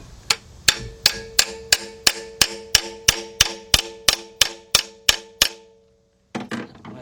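A wrench is struck against a stuck engine bolt on a 1997 Mercedes-Benz E320 W210 3.2 during upper front timing cover gasket work. About sixteen sharp, ringing metallic clangs come at a steady, even rhythm, close and loud, followed by a brief rattle.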